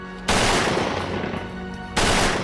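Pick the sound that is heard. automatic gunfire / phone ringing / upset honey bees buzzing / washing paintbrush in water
automatic gunfire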